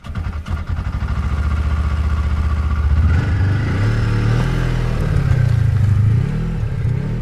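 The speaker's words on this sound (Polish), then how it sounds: "a ona na skuterze śnieżnym" A snowmobile engine in the police game This is The Police 2, droning steadily and close, with the pitch rising and wavering as it revs up midway, alone without talk.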